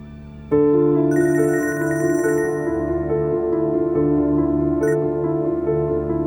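A landline telephone rings in a steady repeating electronic trill, loud and close, starting abruptly after half a second and continuing alone with no talk over it.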